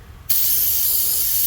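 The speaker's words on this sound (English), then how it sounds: "let me grab some brake cleaner and see where we at" Aerosol brake cleaner sprayed onto a car engine near the oil pan: one sudden, loud, close hiss that starts abruptly and holds steady to the end.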